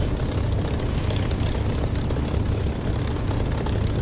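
A propeller aircraft's engine in the DCS flight simulator game drones loudly and steadily as it powers up for takeoff, a close, continuous low roar with no talking.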